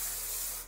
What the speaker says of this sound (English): I'm just going to spray down my hair while simultaneously scrunching it.